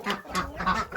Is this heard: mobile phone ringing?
no